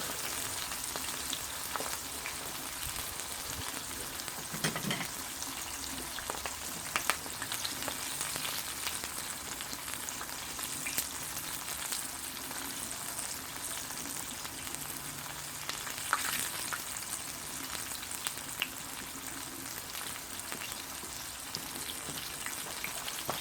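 Herbs fry in flavored oil in a pan, giving a quiet, even sizzle with scattered small pops, continuous and unbroken by voices.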